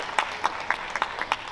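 An audience at a sung-poetry festival in Olsztyn applauds, a moderate patter of scattered claps with a few sharper hand strikes, heard from a middle distance.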